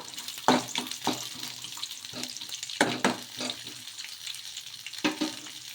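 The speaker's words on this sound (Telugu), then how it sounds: "ఈ వెల్లుల్లి రెబ్బలు కూడా కొంచెం ఫ్రై కావాలి ఆయిల్లో" Crushed garlic cloves frying in hot oil in a pan for a snack recipe, with peanuts soon added, giving soft sizzling under a series of sharp scraping stirs spaced a second or two apart, close by with no talk.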